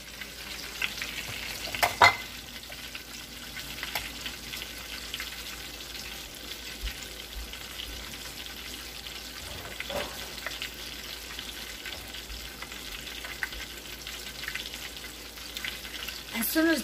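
Steady crackling sizzle of chicken frying in hot oil, continuous throughout at moderate level, with a few brief clatters and soft sounds of movement.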